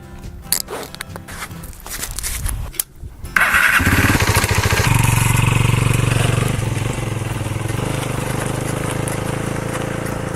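A Derbi Mulhacen Cafe 125 motorcycle is handled with a few clicks and rustles, then its small single-cylinder engine starts up loud and close and settles into a steady buzzing run as the bike rides off.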